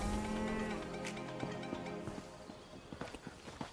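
A cow in a video game moos with a long, loud, low call that rises and fades, followed by a quieter stretch of clopping steps and scattered clicks.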